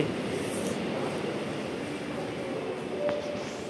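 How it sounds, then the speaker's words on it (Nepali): Steady, dense rumble of a metro train at a railway station, broad and continuous, with a faint brief squeal near the end. "यो ठ्याक्कै रेलवे स्टेसन हो यताबाट रेलवे स्टेसन मेट्रो भनौँ"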